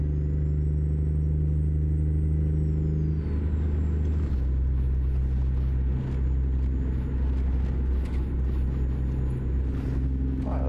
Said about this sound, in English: that's a rattling going on in here